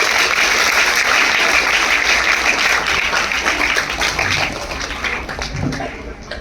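Loud, sustained applause from an audience at a documentary inauguration event, dense and continuous before thinning slightly toward the end.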